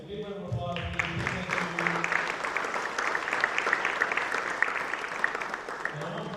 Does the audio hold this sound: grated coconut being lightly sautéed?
no